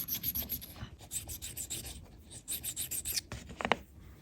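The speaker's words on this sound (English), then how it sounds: "So we can just take a stone like this and just very lightly go around the edge of this." Sharpening stone stroked lightly around the edge of an Albrecht drill chuck, a soft, close, dry rubbing that repeats in short strokes with brief pauses, faint and without talk.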